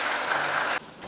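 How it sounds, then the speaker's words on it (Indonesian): Applause from guests at a wedding blessing ceremony, a dense steady clatter of clapping that drops off sharply near the end and leaves a quieter tail. "Kita sambut semua dengan tepuk tangan yang meriah."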